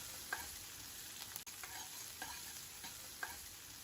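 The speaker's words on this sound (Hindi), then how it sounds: "जैसे ही हमारी सब्जियां भुनने लगेगी हम इसमें डाल रहे हैं अब कड़ी पत्ता और शिमला मिर्च। इन्हें भी हमें अच्छे से भून लेना है।" Vegetables with curry leaves and capsicum stir-fry in a pan for fried masala idli, giving a faint continuous sizzle with light, regularly spaced spatula scrapes and taps.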